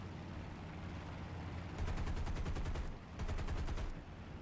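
Two long bursts of rapid .50 calibre machine gun fire from an aircraft in the War Thunder video game, heard over a steady engine drone, with a short pause between the bursts.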